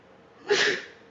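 A single sneeze, fairly close and moderately loud, a short burst of breathy noise rising and fading within a second against a quiet room.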